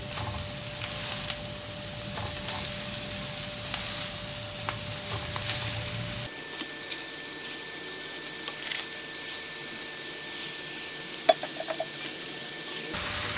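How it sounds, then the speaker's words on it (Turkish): Spinach sautés in a pan with onions and tomato paste for a Turkish baked spinach dish with béchamel, making a continuous soft sizzle and hiss that shifts in tone partway through, with no voices. "Evet ıspanaklarımız sönene kadar aynı şekilde kavuralım."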